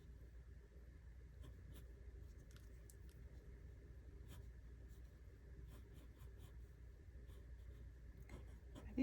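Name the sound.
writing on paper with a marker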